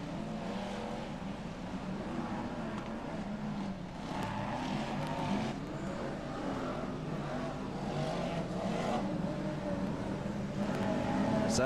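BriSCA F1 stock cars race and jostle around the Long Eaton oval, a continuous layered engine drone with rising and falling revs as cars pass, steady and somewhat distant.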